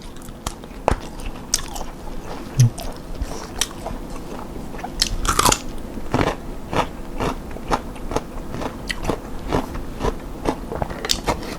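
Someone biting and chewing pickled blood cockles, close and crisp, with repeated sharp crunching bites and wet crackles in an irregular rhythm and no talk.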